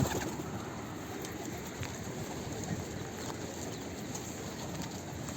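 Soft coos from a pigeon with neck paralysis murmur faintly amid a dense background hiss, with occasional light taps and rustles.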